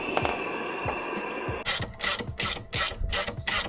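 Ratcheting spanner clicks in several quick bursts while working on Subaru Outback suspension during a 2-inch ReadyLIFT kit install, loud and close, after a quieter stretch of low background clatter.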